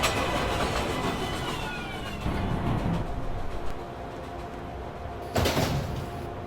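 A New York subway 7 local train rumbles at a station as its doors slide shut, with a loud mechanical burst near the end and steady rail noise throughout.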